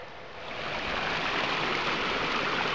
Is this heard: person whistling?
no